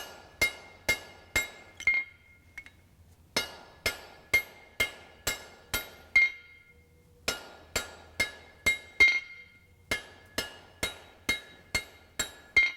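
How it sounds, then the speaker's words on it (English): A hammer strikes a hot cut on an anvil in a steady rhythm while forging a center punch from coil spring steel, around two dozen sharp ringing blows with a brief pause midway, loud and close with no talking. "You don't want your hammer to go through and hit that hot cut"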